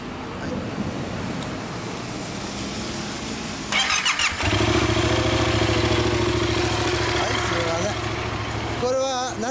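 A stock-exhaust Yamaha MT-07 motorcycle engine fires up after people talk, settling into a loud, steady idle with a deep rumble close by, and a quick rev blips near the end.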